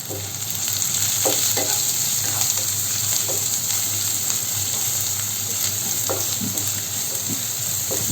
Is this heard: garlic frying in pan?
yes